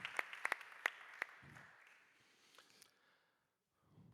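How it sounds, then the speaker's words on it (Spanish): A few sharp, separate claps from an audience at a tech conference, sparse and brief, then fading into near silence with faint murmuring at the end. "les deis un fortísimo aplauso"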